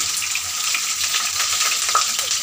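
Onions hit fully heated oil for a fish dish and fry with a loud, steady, close hiss. Faint stirring clicks sound now and then, and there is no speech.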